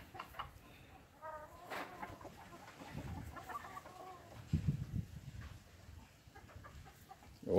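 Young chicks and fowl cluck and peep in short scattered bursts, fairly faint and close, with a few louder thumps and rustles between the calls.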